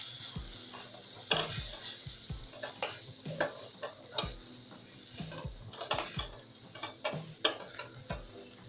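Food sizzles in a frying pan, sautéed with salt for a drumstick-leaf dish, while a utensil repeatedly scrapes and knocks against the pan, stirring in an uneven rhythm.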